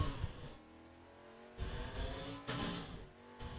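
Engine of a 1970s McLaren Formula 5000 race car with big wheels and rear wings, lapping Zolder in a racing game; the engine drones steadily, rising in surges as the revs climb and fall, with no talking.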